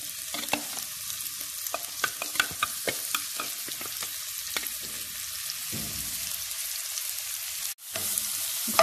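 Minced meat mixture frying in a pan with margarine and oil, a close, continuous sizzle broken by frequent sharp crackles and pops and a few scraping stirs, with no voices.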